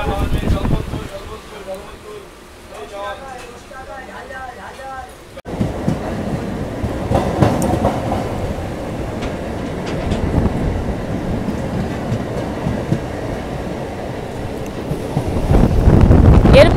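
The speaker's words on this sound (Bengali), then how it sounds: "ছেড়েও দিল আমাদের ট্রেনটা বিষ্ণুপুর থেকে" A MEMU train pulls out of Bishnupur station in heavy rain, with rumbling wheels and wind noise building steadily over the run and growing louder near the end, while a voice talks at moments.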